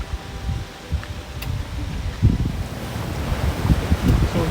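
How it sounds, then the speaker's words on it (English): Ocean waves crashing along the Koh Chang coastline in Thailand with the tide coming in, a loud rolling surf wash that swells and breaks repeatedly, mixed with gusty wind noise on the microphone and no talking. "And the waves are really crashing."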